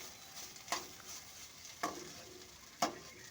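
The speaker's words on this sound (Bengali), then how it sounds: "আলুটাকে দিয়ে এইভাবে একটু ভালো করে কষিয়ে একটা পুর বানিয়ে নিচ্ছে" Potato filling for patties sizzles softly as it is sautéed in a pan, a quiet low frying hiss broken by three distinct scraping stirs of a spatula at roughly one-second intervals.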